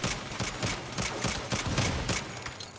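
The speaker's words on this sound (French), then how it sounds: "Je me tire un chargeur sur un type" A magazine is emptied at an enemy in Saints Row, heard as a steady string of evenly spaced gunshots, close and loud, about a dozen cracks in rapid succession with no voices.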